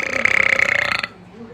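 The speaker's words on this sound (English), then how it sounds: "I'm not used to somebody burping out loud." One loud, drawn-out burp with a rattling, pulsing tone lasts about a second, close to the listener, and then stops abruptly.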